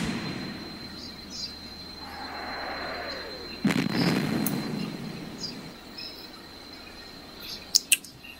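Naval artillery fires in the Atlantic Fleet video game during a Kriegsmarine campaign: one heavy booming blast lands midway over a low rumbling background, followed by a couple of sharp clicks near the end.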